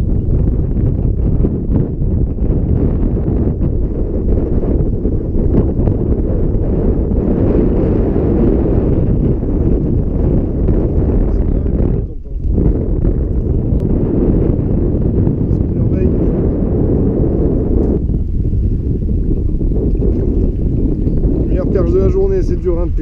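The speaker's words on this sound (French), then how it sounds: "il y a du vent" Strong wind blowing across a dam reservoir lake during a carp fishing session, a constant loud rumbling roar of gusts buffeting the microphone for the whole stretch, nearly unbroken.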